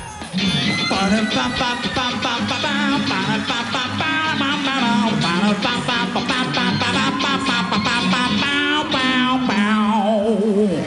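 Guitar played on a TV variety show stage amid a full live band, dense and loud with strummed chords and a steady beat throughout.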